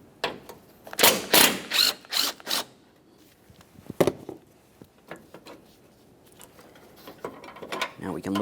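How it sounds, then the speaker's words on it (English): A ratchet loosens 10mm mounting bolts on a Toyota Sienna, heard as several close, loud bursts of quick clicking, then sparser scattered clicks and handling noises. "we'll start removing our 3 10mm headed mounting bolts that hold this in place"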